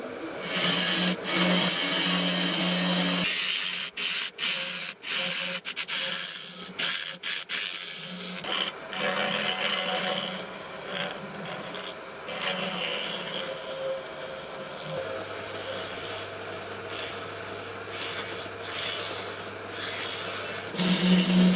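Carbide-tipped tool turning a pine cone and epoxy resin blank on a lathe, a loud continuous rasping scrape with intermittent catches and ticks, then a steadier grinding hum joining later, no talking.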